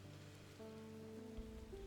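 Very faint, steady patter of rain in the Strange Antiquities video game, softly falling under low sustained musical tones, with no speech.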